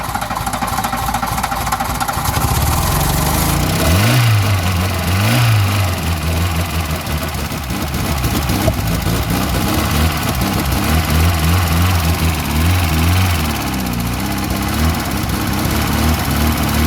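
Classic VW Scirocco engine running loud and rough just after its first start in six years, revving up and down unevenly while being kept alive on the throttle.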